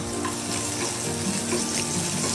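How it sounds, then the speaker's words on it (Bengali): Bitter gourd pieces fry hard in hot oil in a wok, a dense, continuous close-up sizzle with slight crackles and no voices. "উচ্ছেগুলো দিয়ে একটু কড়া করেই ভাজতে হবে"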